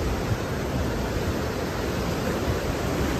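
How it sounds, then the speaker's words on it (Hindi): Water released through the Koshi Barrage gates rushes in a broad, constant roar, loud and unbroken, with no voices over it. "पानी का एक अलग ही साउंड है यहाँ भाई"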